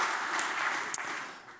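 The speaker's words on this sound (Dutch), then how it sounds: "een applaus voor Bas." A short burst of soft, even applause from an audience at an architecture talk on timber design, heard at a low level with one sharper clap standing out partway through.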